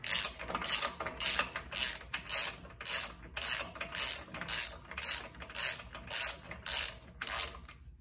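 A ratchet tightens the drive chain on a Black Bros 650 top and bottom adhesive spreader, clicking in about a dozen steady, evenly spaced bursts close to the mic, with no voices.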